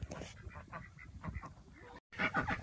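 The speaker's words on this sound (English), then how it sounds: "I should have fed the ducks first so they would have been quiet." Farm ducks quack and honk noisily in a close, agitated chorus of rapid overlapping calls, with a brief cut near the end before the clamour resumes.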